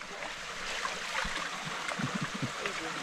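Clothes being washed by hand in a stream: continuous running water with soft splashes and sloshing that grow busier toward the end, with a faint voice now and then.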